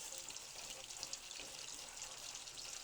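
Sweet potato frying in oil with sugar, a steady dense sizzle with crackling bubbles throughout, quiet and close with no voices.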